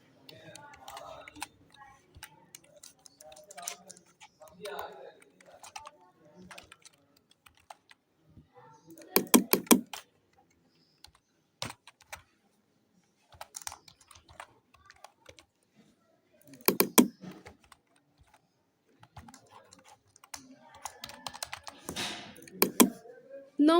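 Data keyed in on a computer keyboard, bursts of quick close clicks and key taps with pauses between, alongside faint speech and a few louder clacks.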